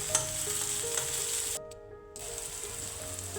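Potatoes with green chillies are stir-fried in a pan for a Kerala-style mezhukkupuratti, making a dense close sizzle with stirring clatter; the sizzle briefly drops out partway through, then resumes more softly.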